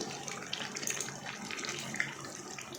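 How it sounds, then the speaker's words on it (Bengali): Kewra water poured into a simmering chicken curry in a home kitchen, a soft steady liquid trickle and sizzle running throughout, fairly quiet. "এবার আমরা এর মধ্যে অ্যাড করছি কেওড়ার জল"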